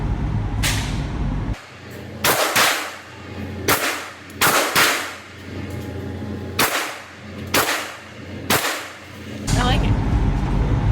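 Handgun shots fired one at a time at a shooting range, sharp loud cracks spaced a second or two apart with a few quick pairs, close and prominent with little talk.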